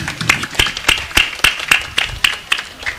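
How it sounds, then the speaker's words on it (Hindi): Audience clapping at a village committee ceremony where garlands are being presented, with regular, fairly loud claps of a small group spaced about a third of a second apart and no talk. "ताली बजाएंगे।"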